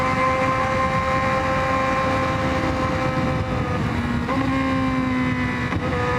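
A Honda CBR1000RR-R motorcycle engine holds a steady, loud drone with sustained harmonic tones that shift slightly in pitch, continuous throughout with no speech.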